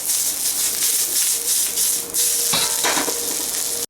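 Carrots and onions sizzle and hiss loudly in a hot pan while being stir-fried for vegetable Hakka noodles, with a steady frying roar and a few scraping stirs near the end.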